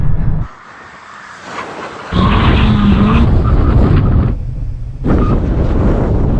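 Several hot hatches, a Honda Civic Type R, BMW M135i, Mercedes-AMG A35, Audi S3 and VW Golf R, brake hard in a brake test, giving loud, roaring, windy rumbles that fade briefly then swell again close by.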